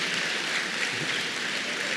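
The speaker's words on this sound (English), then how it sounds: "So if you could give them a round of applause" Steady crowd applause at a high school championship celebration, a dense wash of many hands clapping together at moderate volume, with no voices standing out.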